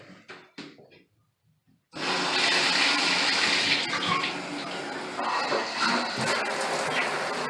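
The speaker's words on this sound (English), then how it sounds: "you can see the water coming from here" Water from a hand-held shower fitted with a diverter valve starts with a sudden rush and then streams and splashes steadily and loudly, after a few brief clunks and taps of the fitting being handled.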